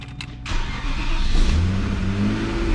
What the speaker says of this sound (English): I do not understand why this car would have a rev hang.